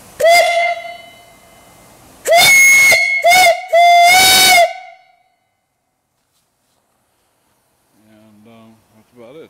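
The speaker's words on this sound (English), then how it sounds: "The whistle works good." A loud steam whistle on a large steam boiler blows nearby in several blasts, one long, then a short burst and two more, with a hissing rush of steam, then silence and faint voices.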